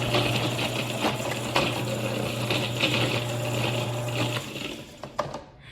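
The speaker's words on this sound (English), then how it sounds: "I'm gonna go ahead and grind that up for a few minutes and just get that whipped down." A grinder runs steadily with a whirring, ratcheting drone, grinding fresh herbs with solvent for a tincture, then winds down near the end with a few knocks.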